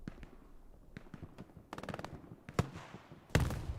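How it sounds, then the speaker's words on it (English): Rockets and gunfire in the WWII shooter Hell Let Loose: a series of sharp distant cracks, rapid rattling bursts, and two louder booming impacts near the end, against a quiet battlefield background. "More rockets making their way"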